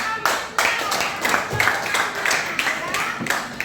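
A classroom audience claps in a short burst of applause, a dense patter of hand claps at close range for a few seconds with no voices heard.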